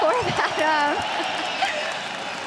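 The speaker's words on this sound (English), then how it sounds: "The crowd loves it as well" An arena crowd at an LEC esports semifinal between Fnatic and Schalke 04 applauds and cheers, a steady rumbling patter in the background while someone talks over it in the foreground.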